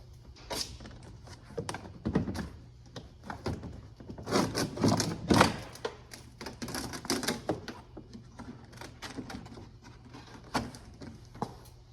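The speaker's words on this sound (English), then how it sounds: "This door panel, lift straight up on it and it'll come off." A door panel on a 2013 Ford Super Duty Powerstroke truck is pried and lifted off, giving quiet plastic clicks, rubbing and sharp snapping pops of clips coming loose in uneven bursts, with no talk.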